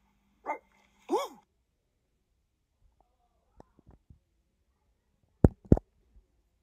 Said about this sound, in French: Elle essaie d'aboyer, elle arrive pas, mesquine.